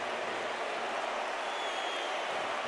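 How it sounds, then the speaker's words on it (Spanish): A stadium concert audience in Bilbao applauds and chants the singer's name, a steady dense wash of clapping and voices heard from within the crowd, with no break. "con el aplauso del público que corea su nombre"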